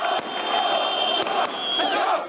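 A large crowd in Libya shouts anti-regime slogans in unison, a loud, close, sustained roar of many voices rising and falling in chanted bursts, with a few sharp cracks among them.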